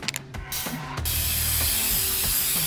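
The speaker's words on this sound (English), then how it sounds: "Okay, spray painting time is now." A spray can hissing in inFAMOUS Second Son, with a rattling click at the start and then a steady, loud, close hiss that runs on without a break under low mechanical hum.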